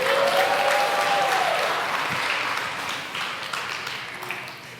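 Applause from a church congregation, dense steady clapping that fills the room and slowly tapers off, with a brief ringing tone near the start and no talk over it.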